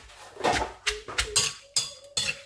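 Green papaya salad ingredients pounded and bruised together in a mortar, a series of sharp rhythmic knocks with clinking, about six strikes close up.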